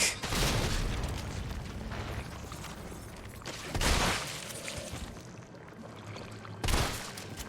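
Grenade blast in the Resident Evil 3 Remake video game, with several loud booming bursts standing out from a dense, continuous wash of game noise and combat sounds.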